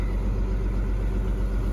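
Low, steady rumble of a tractor engine running near, a dense continuous idle-like drone with no voices.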